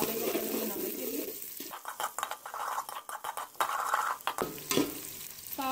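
Finely chopped onions fry in a pot as the base for a Karachi-style student chicken biryani, with steady sizzling and spoon-stirring scrapes against the metal under a speaking voice.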